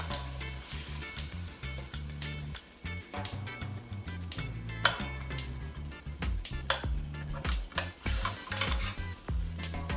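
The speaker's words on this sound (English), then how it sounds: "Add some butter to the pot." Butter in a pot for Jamaican-style steamed fish in coconut milk sizzles beneath busy stirring, with repeated clinks and scrapes of a utensil against the pot throughout.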